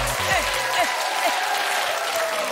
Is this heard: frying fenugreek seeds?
no